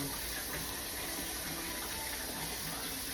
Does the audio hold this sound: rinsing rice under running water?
yes